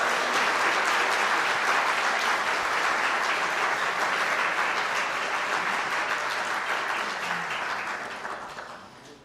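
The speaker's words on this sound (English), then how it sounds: "Let's give them a round of applause here." Sustained applause from an audience at a barbershop quartet finals competition, a dense, steady wash of clapping that holds for most of the stretch before slowly thinning and fading out near the end.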